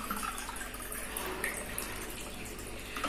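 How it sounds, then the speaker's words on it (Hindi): Cold water poured into a cooking pot for Kashmiri pink chai, a soft continuous splashing trickle heard close and fairly faint, with no voice over it. "अब मैं इसमें मैयर करके 2 कप पानी इसमें डालूंगी, बिल्कुल ठंडा पानी।"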